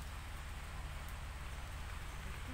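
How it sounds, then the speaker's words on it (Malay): Steady rain falls outdoors at a fishing spot, a soft, continuous hiss with fine pattering that stays even and moderately quiet throughout, with no voices. "Hujan tu ya."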